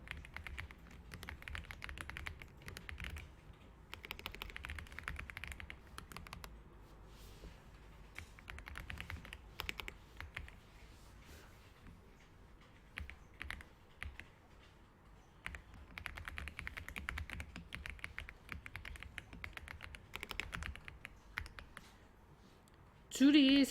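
Text is typed on a computer keyboard for a PowerPoint slide, with quiet, irregular bursts of key clicks that come and go and have brief pauses between them.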